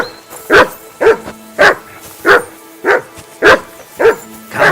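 A dog in the medieval game Kingdom Come: Deliverance 2 barks repeatedly, seven or eight loud, close barks at a regular, even pace with no talk over them.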